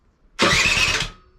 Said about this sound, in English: see if it will turn on the electric start